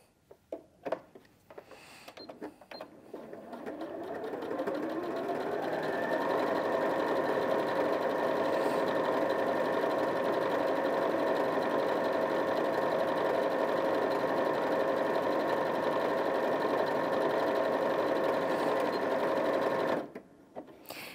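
A Janome 5060 QDC sewing machine stitches decorative patterns in a steady, continuous whirring hum that runs for about fifteen seconds, with brief clicks and handling noise before it starts and after it stops.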